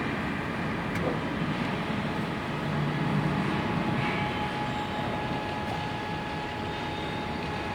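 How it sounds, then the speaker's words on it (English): Hydraulic pump of a 110-ton CNC 8-axis hydraulic press brake starting and then running, a steady broadband mechanical drone with a faint tonal whine holding throughout, close and continuous, no talk. "We push the green button to start the pump."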